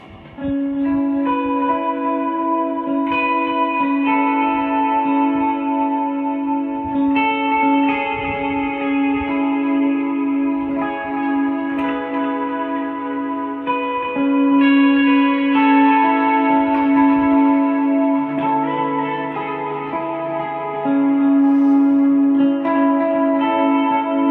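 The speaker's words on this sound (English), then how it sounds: "With some reverb and delay on it. I'll just play that same riff." An electric guitar riff played through reverb and delay pedals on a worship pedalboard rings out alone, sustained and loud, with notes trailing into lush echoing tails and overlapping repeats.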